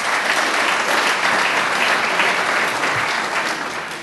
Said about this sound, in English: So give yourself a round of applause for doing all that.